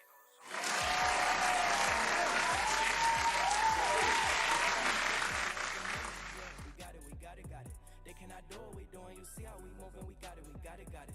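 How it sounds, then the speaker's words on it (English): Loud applause from an audience, clapping densely for about six seconds before fading, with a steady rhythmic music beat continuing underneath and afterward. "Applause for you."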